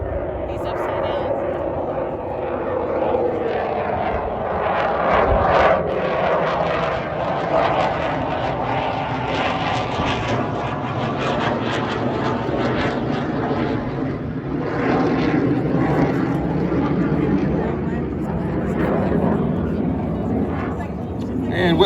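Blue Angels jet flying inverted at about 4,500 feet during a Pensacola, Florida air show, with low cloud over the field. A broad, sustained roar swells and fades throughout, with an announcer talking over it.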